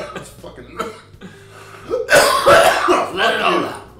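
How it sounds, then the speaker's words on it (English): A man coughing and clearing his throat in several harsh, rough bursts, the loudest fits coming in a cluster near the end, close and prominent. "he is coughing for a good reason"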